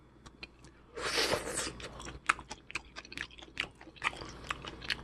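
Raw spoon worm (gaebul) is chewed close up, with a burst of rustling at first, then a run of wet, irregular crunchy bites and chewing clicks, no talking.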